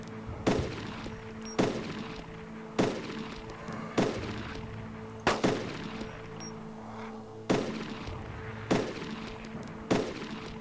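A G36 rifle in DayZ Origins fires single sharp shots at a steady pace of roughly one per second, about nine cracks in all, each with a short echoing tail, heard fairly quietly.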